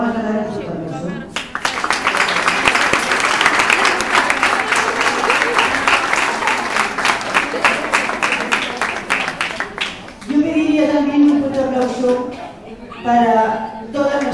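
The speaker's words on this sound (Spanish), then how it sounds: "Le vamos a dar un aplauso." Applause from the members of a cultural women's association at the presentation of a gastronomy event breaks out after a short spoken line, holding as sustained clapping for about nine seconds before speech resumes.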